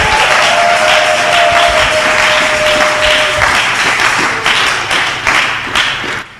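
A congregation applauds together during a New Year's Eve thanksgiving church service, a dense, loud wash of clapping that holds steady for several seconds and then thins out toward the end.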